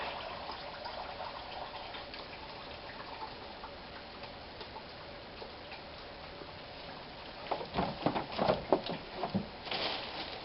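Coolant drains from the radiator of a 2002 Ford Ranger Edge 3.0 into a drip pan below, a steady close trickling hiss that carries on throughout, with a few louder clattering splashes near the end.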